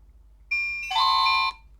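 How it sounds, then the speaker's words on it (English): Nokia 105 phone alarm tone: a single high beep, then a brighter multi-note chime rings out close and clear for about half a second before stopping, with no talking. "from here you can actually change the alarm tone"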